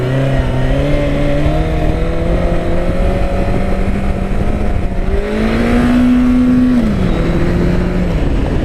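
A Honda CB1100 motorcycle engine revs loud and close, its pitch climbing steadily. It surges sharply as the clutch is popped for a wheelie, then settles back down, with no talking.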